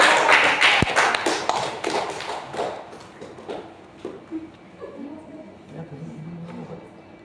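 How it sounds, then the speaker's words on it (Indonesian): A classroom group claps for student presenters during a micro-teaching lesson: a dense burst of close applause that thins into scattered claps and fades under quiet talking. "Beri tepuk tangan untuk kelompok 4."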